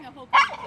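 A rescue dog gives a single short, sharp bark close by, with a brief whine-like sound just before it.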